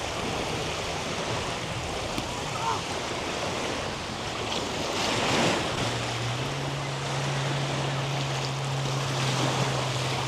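Surf washes onto the shore at Altona Beach in Melbourne while wind buffets the microphone, a continuous rushing roar with a low steady drone joining partway through.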